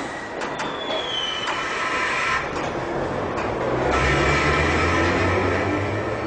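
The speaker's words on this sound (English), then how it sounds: "This train is ready to depart." A London Underground train rumbles and hums as it pulls away from a platform, with brief squeals and clunks early on and a rising low drone of motors.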